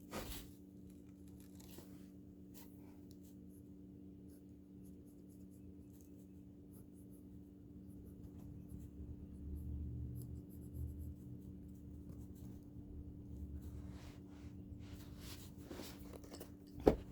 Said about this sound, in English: I'm just going to draw one without talking.